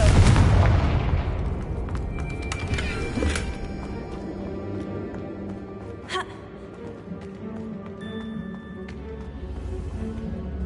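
Confringo explosive spell blast in Hogwarts Legacy, a loud booming burst at the start that decays into a ringing tail, with a few fainter impacts after.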